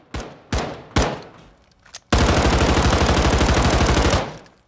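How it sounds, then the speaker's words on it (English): An MCX Rattler in .300 Blackout fires unsuppressed in Call of Duty Modern Warfare: three loud single shots with ringing tails, then a sustained rapid automatic burst of about two seconds that fades out afterward. "just so you guys can hear what it's like firing it unsuppressed with a 300 blackout"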